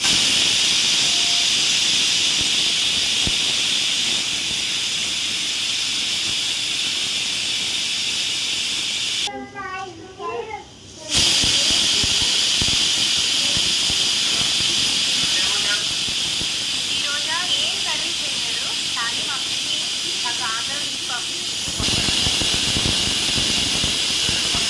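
A pressure cooker cooking dal with tender tamarind leaves lets off steam in a loud, continuous close hiss that runs nearly throughout, broken by one short gap where a voice comes through, with faint talk under the hiss near the end.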